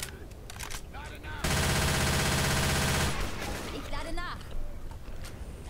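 Automatic weapon fire in the zombie shooter Left 4 Dead 2 rattles in a dense, loud, continuous burst lasting about two seconds, with scattered shots and game noise before and after and players talking in German.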